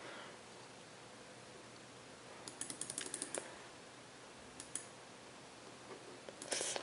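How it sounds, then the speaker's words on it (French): Short bursts of typing on a computer keyboard, entering a code while an iPhone, iPod or iPad is controlled from the computer; a quick cluster of clicks mid-clip, a couple more later and a final burst, fairly faint over steady background hiss. "Donc je tape le code comme que je veux."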